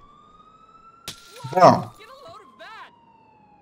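A police car siren in Grand Theft Auto IV holds a steady, moderately loud tone across the whole moment, while a short burst of noise and a brief spoken word cut in partway through.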